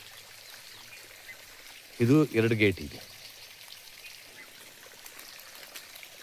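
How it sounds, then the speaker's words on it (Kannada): A steady, gentle rush of irrigation water flowing onto plants on a coconut farm runs throughout, with someone speaking briefly over it. "ಈ ಥರ ಎಲ್ಲಕ್ಕೂ ನೀರು ಏಕಕಾಲದಲ್ಲಿ ಎಲ್ಲ ಗಿಡಕ್ಕೂ ನೀರು ಬೀಳುವಂಗೆ ಮಾಡಿದ್ದಾರೆ"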